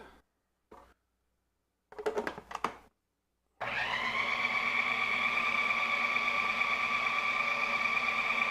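A food processor's blades mince beef and lamb for kofta. After a few brief quiet knocks and scrapes, the motor starts and runs as a loud, steady whir to the end.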